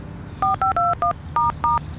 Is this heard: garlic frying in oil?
no